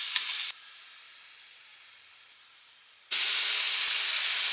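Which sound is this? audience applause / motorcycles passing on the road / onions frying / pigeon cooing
onions frying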